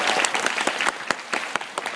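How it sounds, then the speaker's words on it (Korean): A fan-event audience breaks into steady, dense clapping to open a Q&A with actor Kim Soo-hyun, continuous applause with scattered sharper claps throughout the short burst. "박수!"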